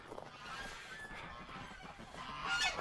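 Ducks honk outdoors in a short burst of nasal calls at moderate distance, rising a little louder toward the end, with no voices.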